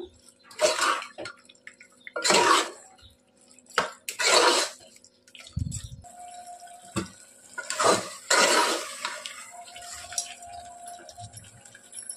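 Water pours into a pot of mutton and brinjal curry in several separate splashing bursts, with short gaps and a few light clinks between them. Nobody speaks.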